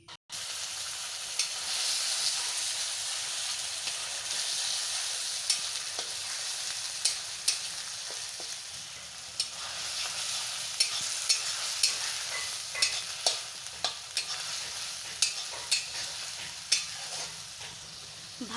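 A ginger, garlic, onion and tomato paste fries in a pan with whole spices, giving a steady close sizzle broken by regular clicks of a spoon stirring, with no talk.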